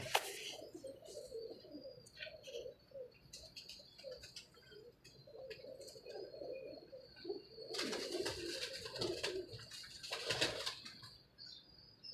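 Pigeons coo in soft, low murmurs with flapping wings and a few chirps, louder bursts of wingbeats toward the end, close and with no voices.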